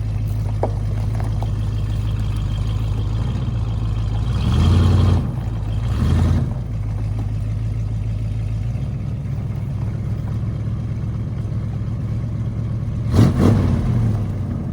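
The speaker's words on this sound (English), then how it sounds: "I still can't get over how stellar that 383 Magnum sounds, pumping through those old original exhaust pipes and mufflers." A 1971 Dodge Super Bee's 383 Magnum V8 rumbles through its original exhaust pipes and mufflers, a deep steady idle lifted by a few short revs, two close together early and one near the end.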